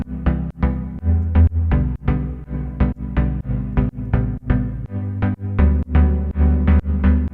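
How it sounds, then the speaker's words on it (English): Warm filtered saw synth chords from the Drift Off preset pulse in a steady rhythmic pattern, each chord swelling and decaying under an envelope, full and close with no talking. "It's a really nice warm saw sound that's just been filtered and modulated by the envelope"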